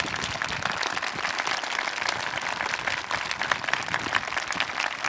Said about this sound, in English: stand up and give a rounding applause for somebody in this audience that you appreciate